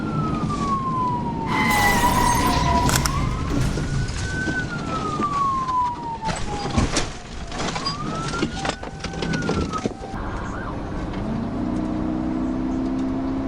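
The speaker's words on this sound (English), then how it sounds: "A nearby police car also arrives at the scene immediately." A police car siren wails loudly as the car arrives at the scene of a chase, sweeping up and down several times amid traffic noise and clatter before stopping.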